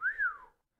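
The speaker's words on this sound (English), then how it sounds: "Ginny lets out a low whistle." A single low human whistle, close and clear, glides briefly up and then slides down before fading into silence.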